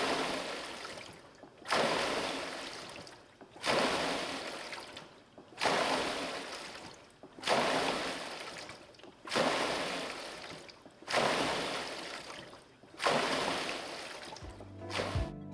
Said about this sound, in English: you can listen to the unique water sound of water rower